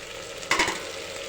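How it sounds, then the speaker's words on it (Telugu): Tomato and green chilies fry in a pan for a curry of black-eyed peas, with a short burst of sizzle and stirring at one moment over a quieter background hiss. No one talks. "టమోటో పచ్చిమిర్చి మంచిగా వేగిపోతాయి"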